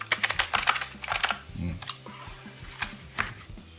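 Keys clatter on an AULA Wind F2058 RGB mechanical keyboard in a close, crisp burst of irregular clicks and thocks, with a brief lull midway. A person talks faintly nearby.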